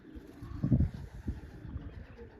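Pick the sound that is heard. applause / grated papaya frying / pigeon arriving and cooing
pigeon arriving and cooing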